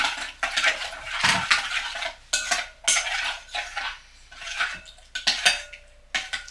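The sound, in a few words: stirring maltodextrin into hot water for sports drink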